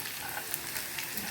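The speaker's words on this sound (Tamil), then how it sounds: "கொஞ்சமாக எண்ணெய் ஊற்றி தான் நான் பொரிக்கிறேன்." Okra fritters for ladies finger 65 shallow-frying in a small amount of oil, giving a steady, soft crackling sizzle close by with no talking.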